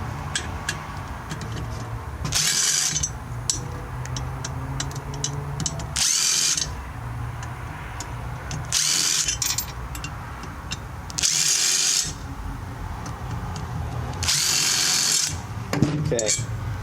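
A power tool takes the intake runner bolts off a Tuned Port Injection engine, its loud bursts lasting about a second each and repeating five times, with ratcheting and handling noise between them.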